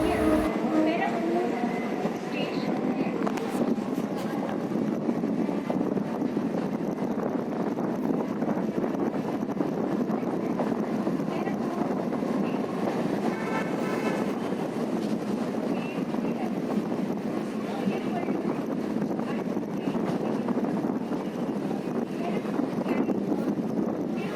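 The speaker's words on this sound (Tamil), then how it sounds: "நம்ம வண்டி பெரம்பூர் ரயில் நிலையத்துக்கு வந்திருக்கு நண்பர்களே" An EMU local electric train near Chennai, India, rolls steadily arriving at Perambur station, with continuous rumbling and rattling of carriages heard from inside, and a constant loud mechanical hum throughout.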